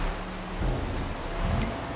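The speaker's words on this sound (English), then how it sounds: "hopefully the rain stops soon" Dense, even hiss of falling rain in the farming game Farming Simulator 22, with a low rumble swelling twice beneath the steady wash over two seconds and no voices.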